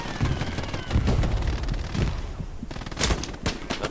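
Gunfire in a Hell Let Loose battle, with loud sharp cracks and bursts of shots going off repeatedly, some close and punchy, others in rapid clusters, with no talking over them.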